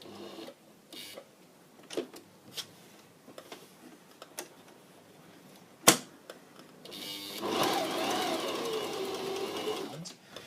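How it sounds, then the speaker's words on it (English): Sewing machine edge stitching a patchwork pocket onto a vest, its motor running in short bursts and then in a steady louder run near the end, with sharp clicks and taps from handling between stitches. "And we're going to go back to edge stitching."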